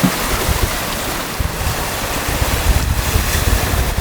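Strong wind and breaking waves rush past a sailboat heeled over and sailing fast off Mexico, a steady loud roar of wind buffeting the microphone with water splashing against the hull, no voices.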